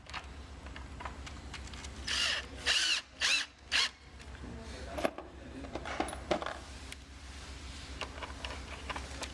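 Flathead screws are driven with a Phillips number 3 bit on a power driver, four short, loud whirring bursts in a row, followed by small clicks and handling noises against a low background hum.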